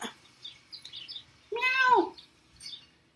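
A person voices a drawn-out meow in imitation of a cat, preceded by soft scattered sounds, moderately quiet.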